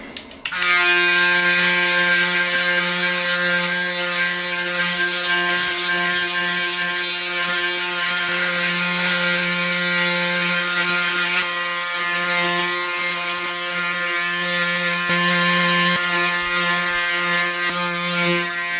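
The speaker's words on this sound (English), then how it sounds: "it feels weird wet shaving with an electric razor" A Braun Series 9 electric shaver used for a wet shave gives a steady, loud, close-up mechanical buzz that hums without a break for the whole stretch.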